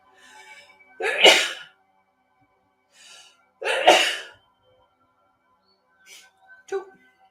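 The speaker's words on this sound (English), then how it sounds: "hold on, I'm going to sneeze." Two loud sneezes, each led by a short sharp inhale, with softer breaths and small sounds between them and a quieter catch of breath near the end.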